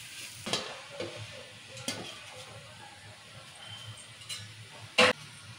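Chicken frying in a pan, a low steady sizzle broken by a few sharp scrapes and clinks of stirring, the loudest near the end, with no voices.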